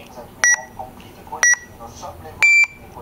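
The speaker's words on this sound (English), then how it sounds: "Turn the device on. Single beep means it's ready." Electronic beeper device giving short, sharp beeps: three clear tones spaced about a second apart, the last slightly longer and higher, close and loud over a quiet room.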